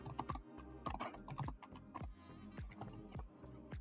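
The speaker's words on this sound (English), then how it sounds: "Just type it here." Keyboard typing while configuring Git, a steady close run of clicking keystrokes with irregular rhythm and no voices.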